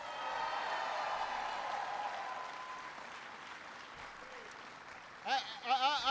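An audience at a political speech in Missouri claps, a dense steady ovation that fades slowly before a speaker's voice takes over near the end.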